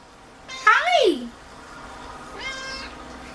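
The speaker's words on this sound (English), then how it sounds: "He's my little tiger cat." A tabby cat gives a loud, rising-and-falling meow close by, followed after a pause by a second, softer meow.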